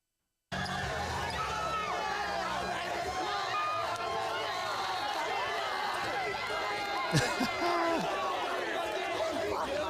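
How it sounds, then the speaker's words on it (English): A packed crowd at a bare knuckle fight roars loudly and steadily, a dense wall of cheering and shouting that holds for the whole stretch, with a brief sharper burst near the end. "that part of the crowd was loud and proud all night long"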